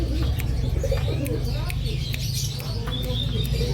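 Local pigeons at a bird hobby market in Makassar coo softly amid constant crowd murmur and low rumble, with faint chirps and clicks scattered through the busy background.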